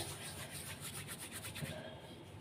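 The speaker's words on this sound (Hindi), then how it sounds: "1 टेबल स्पून ऐड करेंगे कस्तूरी मेथी और उसको हाथों से करेंगे रब" Dried fenugreek leaves (kasuri methi) are crushed between the hands over a pan of potato curry, giving a faint, steady papery rustling with soft rhythmic rubbing strokes, alone.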